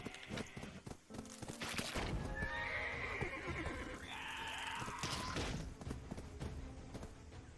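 A horse in the video game Black Desert Online whinnies loudly in a long, shrill neigh, with hoofbeats and busy game background noise throughout.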